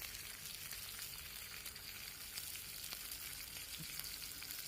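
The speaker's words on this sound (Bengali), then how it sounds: "এখন আমরা টমেটো কুচিগুলো দিয়ে দিব পেঁয়াজ কুচির মধ্যে, এরপর দিয়ে কিছুক্ষণ নাড়তে থাকবো।" Chopped tomato being stirred into frying chopped onion in a pan, with a steady broadband sizzle throughout and occasional faint scrapes of the spoon, no voices.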